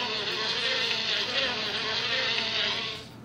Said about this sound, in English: Bees live in a beehive.